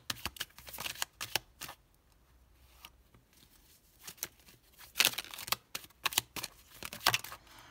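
Tarot cards are shuffled and drawn close by, in quick papery bursts of riffling and slapping, with short pauses between handfuls.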